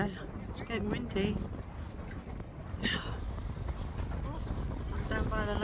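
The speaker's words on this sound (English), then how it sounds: "it's getting windy" Gusty wind by Lake George, New York, buffets the microphone with a steady low roar, rising and falling in strength throughout.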